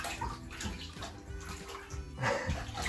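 Ducklings splash and paddle in a bathtub of water, making soft, irregular sloshes and small splashes that come and go. The sound is close but fairly quiet, with no talking.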